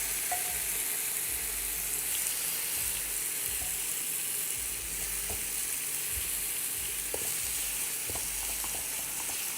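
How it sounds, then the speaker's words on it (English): Meat sizzles steadily in a hot pan, a dense, continuous hiss close by with scattered small pops and crackles throughout and no talking. "Pop the meat down, and you know, of course, you hear the sizzle."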